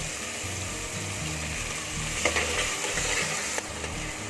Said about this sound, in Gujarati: ટમેટાને એકદમ સરસ આપણે સાતરી લેશું ટમેટા ફટાફટ સતરાઈ ગયા